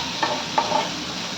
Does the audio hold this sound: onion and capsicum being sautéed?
yes